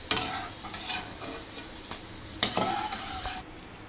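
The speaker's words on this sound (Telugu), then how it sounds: "చూడండి పల్లీలు అనేది చక్కగా వేయించుకున్నాను" Peanuts frying in hot oil for kaaram boondi, a steady sizzle broken by two sharp scrapes or clinks of a spoon against the pan, with stirring noises throughout and nobody talking.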